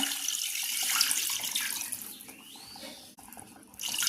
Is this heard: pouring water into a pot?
yes